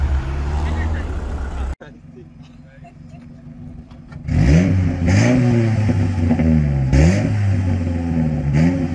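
Volkswagen Kombi van pulling away at the start of a car rally, its engine revving up through several rising surges after an idling rumble and a brief hush, close and loud with people talking nearby.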